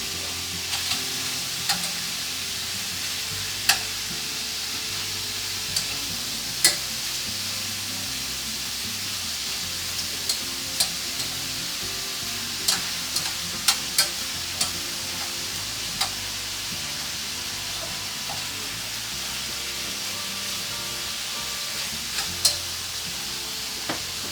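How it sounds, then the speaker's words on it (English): Meat stir-frying in a wok, a steady loud sizzle with occasional sharp ticks and scrapes of stirring, running alone without talk. "I'm going to release the meat a little bit from the pan. And then use it. The wok was meant to be used for."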